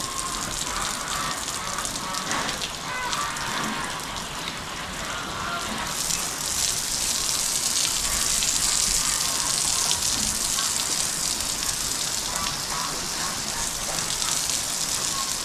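Steady, loud rush of a hose spraying water on pigs throughout, growing brighter and stronger partway through, like a jet hitting surfaces.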